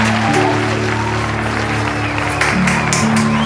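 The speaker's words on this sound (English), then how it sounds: "A round of applause, everyone." Applause at a home graduation celebration builds into steady clapping that mixes with cheering voices and loud sustained tones throughout.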